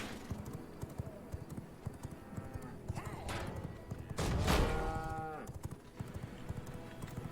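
A horse gallops in the video game V Rising, with a steady run of rhythmic hoofbeats under ambient game sound and a loud whinny-like snort rising in the middle.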